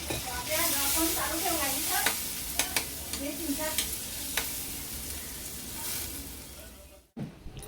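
Onion, garlic, masala and red chili powder sizzle in hot oil in a pan of vegetable curry, a steady loud fry broken by the scrapes and taps of stirring, then a brief pause near the end.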